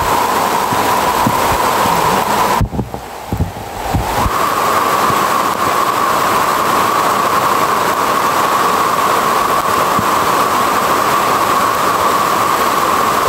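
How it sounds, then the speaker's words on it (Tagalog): Heavy rain pours as a steady, loud, dense hiss that runs nearly unbroken throughout, with only a brief dip in the middle and no talk. "Ang lakas ng ulan"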